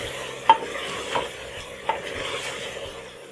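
Tinda (apple gourd) frying in hot oil in a pan, a soft continuous sizzle broken by a few sharp spoon scrapes and knocks against the pan, close and without talk.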